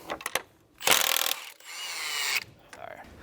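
Ratchet wrench with a 24mm socket working loose the crank pulley bolt on an Audi 2.0T engine, giving short bursts of clicking and mechanical rattling in a few separate pulls, close and fairly loud.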